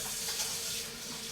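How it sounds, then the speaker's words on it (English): Tap water runs steadily into a kitchen sink as hands are rinsed during cookie baking, a continuous broadband hiss with no talk over it. "I'm gonna rinse my hands and wash them"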